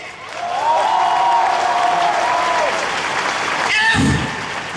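Audience applause at a motivational talk, steady clapping under a continuous droning tone, with a brief burst near the end.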